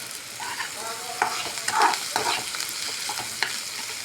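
Garlic, green chilli and finely chopped onions frying in a pan for a simple rice-flour vegetable dish, a steady soft sizzle broken by scraping stirs and a few sharper clinks of the spatula.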